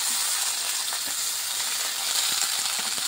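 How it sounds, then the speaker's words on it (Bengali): Eggplant (brinjal) frying in hot oil in a pan gives a continuous close sizzle and hiss with scattered faint crackles, steady throughout and free of any talk. "এবার প্রথমে আমি বেগুনটাকে একটু ভেজে নিই, দিয়ে দিলাম বেগুনটা"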